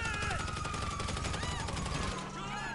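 Rapid automatic gunfire in a video game, a dense, continuous rattle of close shots lasting a few seconds.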